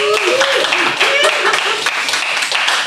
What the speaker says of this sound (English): I honestly did not expect a round of applause